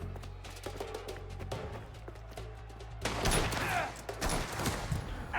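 Rapid bursts of pistol gunfire and impacts in the video game Mafia The Old Country, fairly faint and dense, growing busier and louder partway through over a low background rumble.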